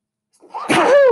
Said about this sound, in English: a sneeze coming on again